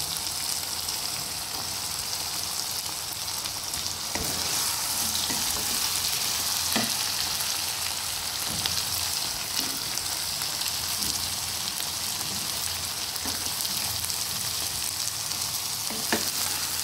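Red and yellow bell peppers fry in hot oil for a chicken dish, a dense, even sizzle that holds steady and close throughout, broken only by a few faint stirring clicks, with no talk.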